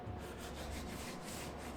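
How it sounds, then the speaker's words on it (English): 80-grit abrasive grinds down metal on the body panel of a 1971 Dodge Demon, a steady close rough scraping hiss with no breaks. "just gonna grind it off with some 80."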